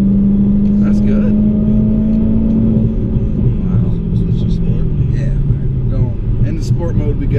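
A Dodge Hellcat engine running under light throttle, a loud, steady low rumble with a drifting tone, heard from inside the car.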